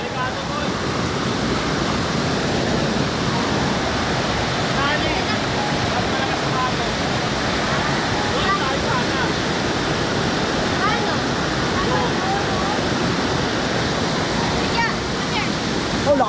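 Strong water current rushing through a forest stream, a loud, dense, unbroken roar of flowing water throughout, close to the listener.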